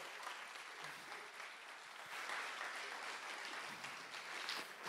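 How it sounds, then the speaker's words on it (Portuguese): Theatre audience at a hypnosis show applauds steadily throughout, a dense, sustained wash of clapping with no voices over it. "uma salva de palmas para os nossos astros!"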